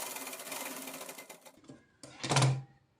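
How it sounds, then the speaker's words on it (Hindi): Sewing machine stitching a button placket on a child's pathani garment, a close, rapid whirring run that slows and stops, then a short louder burst. "यहाँ पे हम सिलाई लगा लेंगे"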